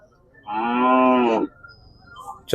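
A breeding bull gives a single loud, close moo lasting about a second, followed by quiet farmyard background.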